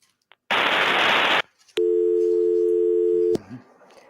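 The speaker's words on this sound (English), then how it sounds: "I think Kami's phone went out" A telephone line tone after a caller's phone line dropped: a brief burst of static hiss, then a steady loud electronic tone held for about a second and a half before cutting off.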